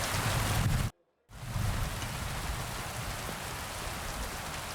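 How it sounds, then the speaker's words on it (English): Steady, dense rainfall in the video game Kingdom Come Deliverance 2 hisses continuously, broken by a brief cut to silence near the start before resuming at the same even level. "So it's raining a bit."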